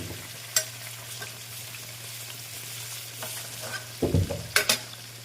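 Potatoes lightly frying in oil for biryani give a faint, steady sizzle with a low hum underneath, broken by a few sharp scrapes and clinks, then a louder burst of stirring and lifting near the end.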